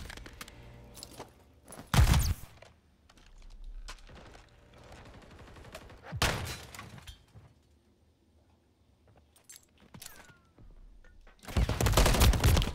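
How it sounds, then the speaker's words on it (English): Gunfire in a competitive video game shooter: loud bursts of rapid shots around two, six and twelve seconds, with quieter scattered shots and game sounds between them. "I'm getting shot from mid-street"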